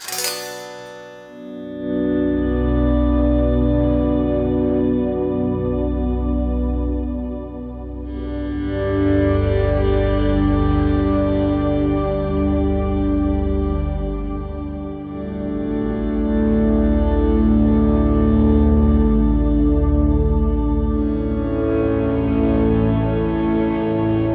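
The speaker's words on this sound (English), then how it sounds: "I've got the Prism Shift running into a huge Blackhole reverb." Slow electric guitar swells fade in and bloom into shimmering, pitch-shifted chords with a long, washy reverb tail, sustained and loud, played through an Eventide H90 Harmonizer using Prism Shift into Blackhole reverb.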